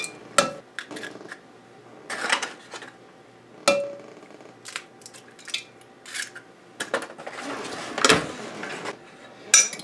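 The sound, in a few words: cracking eggs into a large measuring cup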